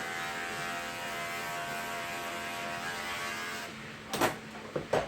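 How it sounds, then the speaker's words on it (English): Electric clippers buzz steadily up close while shaving a puppy's armpits, a constant motor hum that cuts off near the end, followed by a few short handling knocks. "So I'm going to shave out both armpits."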